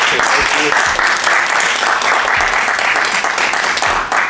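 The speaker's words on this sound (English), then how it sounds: "let's give him a round of applause." A room of people at a Brazilian jiu-jitsu class gives a guest instructor a round of applause, loud, dense and continuous clapping that fills the space from start to finish.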